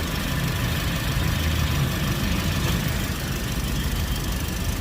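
A 2022 Toyota Avanza engine idles steadily up close, a constant rough rumble with a faint high whine, unchanging throughout and no talking.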